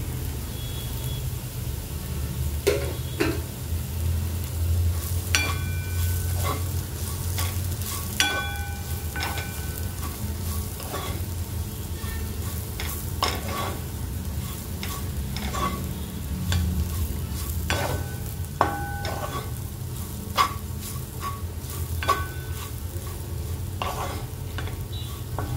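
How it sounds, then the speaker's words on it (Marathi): Kachori filling of roasted, ground fresh pigeon peas is stirred in a hot pan, giving a continuous sizzle with scattered sharp scrapes and clinks and no talking. "ते तुरीचे दाणे भाजलेले मिक्सर मधून काढलेले ते सारण पण टाकून घ्यायचं आहे आपल्याला"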